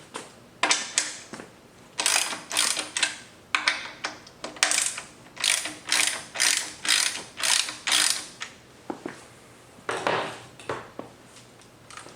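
Hand ratchet working loose thread-locked 12mm hex head fender bolts on a 2024 Yamaha MT-09, a steady run of close, crisp pawl clicks in repeated bursts with short pauses between strokes.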